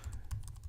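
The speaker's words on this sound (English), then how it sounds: "Just start typing right away." Typing on a computer keyboard makes a short run of soft, quick key clicks, faint and close, over a low background hum.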